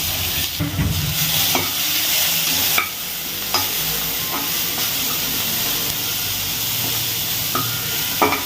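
Chopped small onions sizzle and hiss in hot oil in a pan with green chillies, stirred with a few scraping clicks over a continuous loud frying sound.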